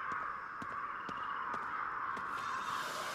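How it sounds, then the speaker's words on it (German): Crows caw repeatedly in Ghostwire: Tokyo, a harsh series of calls spaced through the clip over a steady, dense ambient hiss from the game's environment. "Oh, was ein Lärm hier mit den Krähen."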